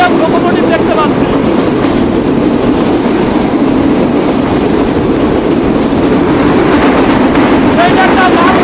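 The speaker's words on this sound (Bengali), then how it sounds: "এটা একটা মালগাড়ি, এটা একটা মালগাড়ি।" A freight train hauled by an Indian WDM diesel locomotive rumbles past a station, loud and close, its wagons clattering in a continuous clickety-clack with a steady roar that swells slightly near the end.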